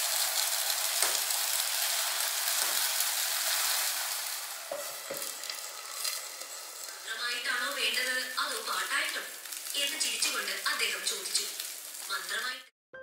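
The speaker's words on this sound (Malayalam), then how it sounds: "ഇപ്പോൾ മുട്ട പൊരിച്ചതും കൂടി റെഡിയായി." Egg batter with coconut fries in a pan with a loud, steady hiss and crackle. The sizzle eases midway, and a voice then talks over the quieter frying.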